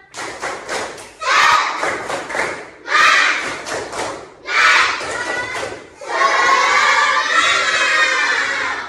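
A classroom group of students performs a rhythmic clapping chant, loud bursts of claps and voices in short phrases, ending in a sustained shout of many voices together.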